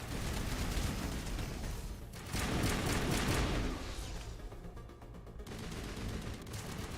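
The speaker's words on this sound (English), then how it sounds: "Stuff's shooting at us, so it's fine." Bursts of gunfire from a Mass Effect firefight rattle in clustered volleys, with a heavy stretch in the middle and scattered shots trailing off, loud and without speech.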